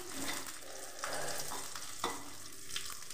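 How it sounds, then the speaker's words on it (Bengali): Nigella seeds and slit green chilies frying in hot oil for a bitter gourd dish, a steady close sizzle with light stirring scrapes and a couple of sharper spatters, no voices. "কালো জিরে লঙ্কা একটু ভেজে নিচ্ছি"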